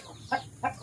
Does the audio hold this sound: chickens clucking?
yes